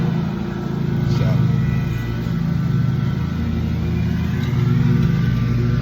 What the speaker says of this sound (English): I'll keep the truck running